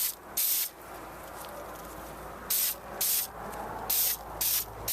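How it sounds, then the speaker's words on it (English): K&N air filter oil is sprayed onto the intake side of a red car air filter in short hissing bursts, two early, then a quick cluster of four or five, close and crisp against a quiet background. "I'm using the K&N air filter oil, and since the airflow goes through this side, we're going to oil this side."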